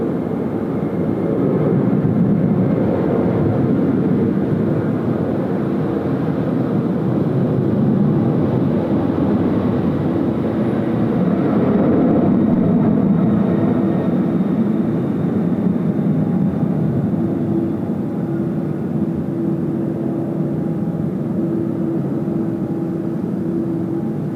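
Jet airliner taking off at Sydney Airport on a windy night, a loud, sustained roar heard from a distance that swells and slowly fades over about twenty-four seconds, with no talk.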